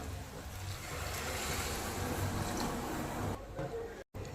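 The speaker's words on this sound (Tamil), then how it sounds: "இப்போ நான் தண்ணி அளந்து எடுத்து வச்சுருக்கேன் நம்ம தண்ணி ஊற்றிக்கலாம்" Water pours steadily into a cooker in a continuous broad splashing rush, close and fairly loud, ending with a short clunk.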